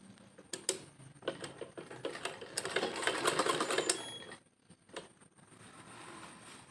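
A sewing machine stitches the middle of an elastic waistband in close, rapid mechanical bursts that swell to a sustained run, then stop and resume more quietly.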